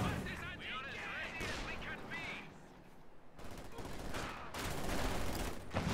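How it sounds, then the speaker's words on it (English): An infantry support gun firing in the real-time strategy game Company of Heroes 2, with repeated heavy booms and explosions amid battle noise, and commentary running over it. "ISG is also continuing to fire"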